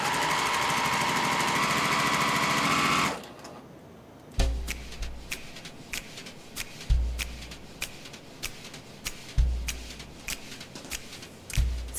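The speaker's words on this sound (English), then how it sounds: "you're going to continue sewing until your quilt top is complete" Quilt rows are sewn together on a sewing machine: a loud, steady mechanical whir runs for about three seconds, then gives way to intermittent clunks and fabric shuffling close by.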